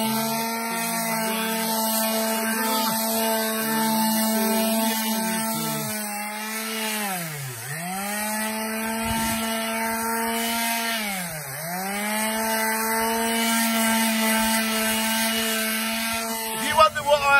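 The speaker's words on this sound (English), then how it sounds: "I am sanding down these original posts to make it last for another 20, 30 years" Power sander or tool working on original old wooden posts, a steady droning whine with two brief pitch dips where the tool bogs under load, continuous and close throughout.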